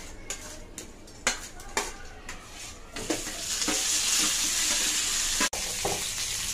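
Mustard seeds, cumin, onion, dried chillies and curry leaves hit hot oil in a pan, with sharp pops and clinks at first, then a loud steady sizzle that swells and holds, broken once by a brief cut.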